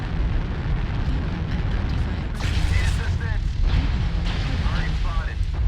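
Heavy Gauss rifle fire in the mech combat game MechWarrior Online: booming, crackling weapon blasts sound over a dense, constant rumble of battle, with a voice talking underneath.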